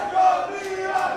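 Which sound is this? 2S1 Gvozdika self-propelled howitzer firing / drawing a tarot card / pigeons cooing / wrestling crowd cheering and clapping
wrestling crowd cheering and clapping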